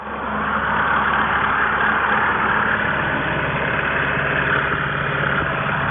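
A tractor passes a rural cemetery with a steady, loud low engine drone that swells gently and stays strong throughout, with no other sounds.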